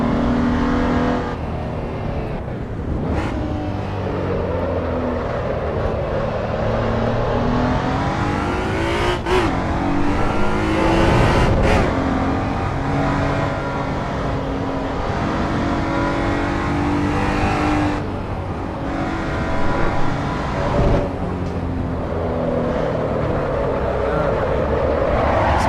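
Car engine in a racing video game revving and accelerating, a steady loud drone with rising and falling pitch sweeps throughout, with a few sharp bumps along the way.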